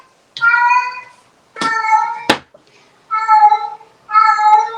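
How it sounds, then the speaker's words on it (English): A cat meows four times, loud and close, each call drawn out and tonal with short gaps between, with a brief sharp click partway through. "Kitty."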